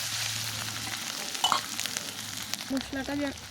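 Garlic paste fries in a pan with a steady close sizzle and occasional stirring scrapes, plus a few brief tonal squeaks toward the end.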